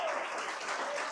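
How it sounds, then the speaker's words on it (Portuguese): Brief, soft wash of applause from a church congregation at a Sunday service, a continuous blur of clapping heard only for about a second. "Eu gostaria que você desse um aplauso a ele por essa atitude."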